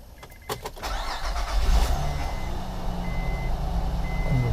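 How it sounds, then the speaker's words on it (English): A car engine cranks and catches near the start, then settles into a steady idle, loud and close, after fresh oil has been added during an oil change. "Now I'm going to start the engine,"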